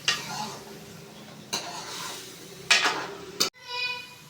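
Salted chicken curry stirred in a kadai, with a few sharp spoon scrapes and clanks against the pan at irregular intervals over a soft background sizzle.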